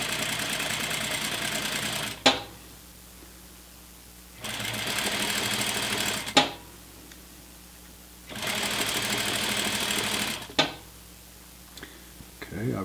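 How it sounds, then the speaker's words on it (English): A sewing machine stitches the seam of pants with an elastic back and slant pockets. Three runs of steady, whirring stitching last about two seconds each and end in a click, with short pauses between runs. "I'm going to start sewing"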